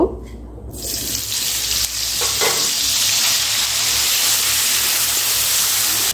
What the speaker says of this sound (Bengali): এখন এই উচ্ছেগুলো ভেজে নেব।